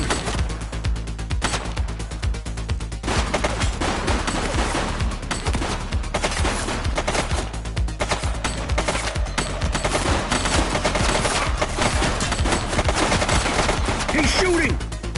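Sustained, rapid gunfire from a fleeing suspect in the police game The Precinct, with dense, loud bursts of shots running almost without pause for the whole stretch over a steady background bed.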